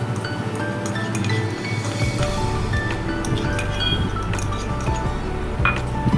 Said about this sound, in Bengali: এই গুঁড়ো দুধটা এর সঙ্গে মিশিয়ে নেবো এখন।